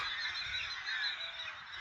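A flock of crows caws in a dense, overlapping chorus among willow trees in a rural village. The harsh calls ring out continuously and echo around, with no voices heard.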